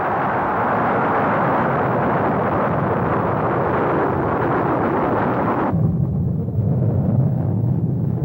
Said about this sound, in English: 3, 2, 1. Ignition. Liftoff.